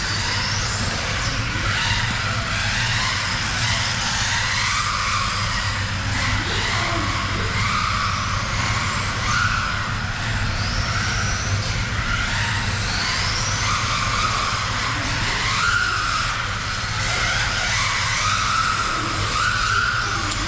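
Small remote-controlled car driven around an indoor track, its electric motor whining steadily and rising and falling with uneven throttle, with tyre scrub and squeals on the floor, fairly close and continuous.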